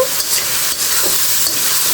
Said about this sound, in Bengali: নেড়ে ছেড়ে সুন্দর করে একটু লাল লাল করে ভেজে নেব